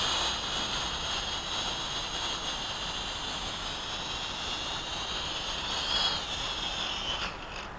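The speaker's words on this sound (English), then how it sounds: "just to demonstrate how easy it is to fly this quadcopter" A small Syma X5C 2.4G quadcopter drone flying outdoors on a calm day, giving a steady high-pitched whine of buzzing propellers that holds near and loud for the whole stretch, with a brief rise in pitch toward the end.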